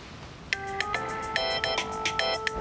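A mobile phone ringtone for an incoming call plays as a melodic electronic tune of repeated tonal phrases, fairly quiet over faint room noise, with no talk.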